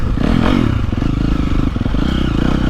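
A 2023 KTM 350SXF four-stroke dirt bike engine brakes off the throttle with a close, loud, steady low burbling and popping rumble, with no voices.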